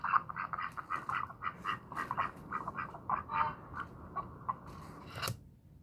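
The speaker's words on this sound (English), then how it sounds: "Quack, quack, quack, quack, quack. A duck." A duck quacks repeatedly in a steady run of nasal calls, fairly close and clear, with no talking over it.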